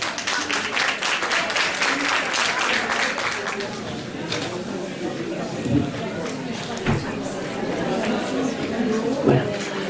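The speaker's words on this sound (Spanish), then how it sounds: "Un aplauso para él." An audience at a local talk on postural hygiene claps for the speaker, dense applause at first that thins into scattered claps, with chatter and voices mixed in.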